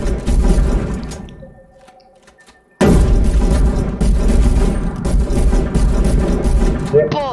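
Loud gunfire bursts in a shooter video game, dense and continuous apart from a quieter lull in the middle, mixed with game effects as a player talks over it.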